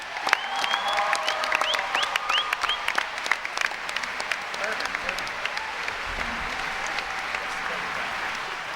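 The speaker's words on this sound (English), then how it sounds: "Can we have a round of applause?" An audience at a panel discussion with the makers of The Office claps in a steady, sustained round of applause, with scattered cheers and whoops and some voices calling out over the clapping.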